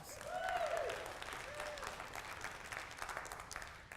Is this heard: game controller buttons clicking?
no